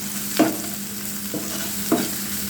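Turmeric and chili powder frying with lightly cooked onions in a pan for a boal fish curry, with three distinct scraping stirs over a steady low sizzle, close and moderately loud.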